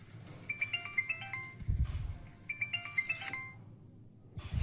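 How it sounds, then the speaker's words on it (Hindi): A mobile phone rings nearby with a bright electronic melody that plays twice, over low thumping background sounds. "सिया तुम्हारा फोन बज रहा है।"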